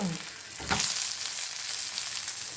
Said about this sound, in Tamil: அந்த கருவேப்பிலை வாசனை பாருங்க மீன் குழம்பு கொதிச்சிட்ருக்கு பாருங்க